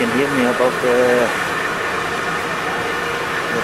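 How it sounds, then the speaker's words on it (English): Tour bus engine on a long sightseeing route around Johannesburg: a steady low drone with air-conditioning hiss throughout, while a person speaks briefly over it at the start before the engine noise carries on alone. "bus noise"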